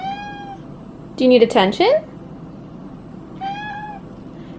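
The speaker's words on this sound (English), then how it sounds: "Can't tell if you're saying meow or no." A cat meows twice, a drawn-out call at the start and another near the end, with a person's brief spoken question in between.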